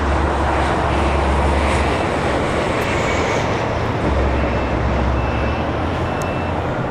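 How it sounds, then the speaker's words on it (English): An American Airlines Boeing Dreamliner takes off from the south side at LAX, a loud, steady low roar of jet engines filling the whole stretch without a break. "we also have an American Dreamliner number 2 for takeoff here on the south side"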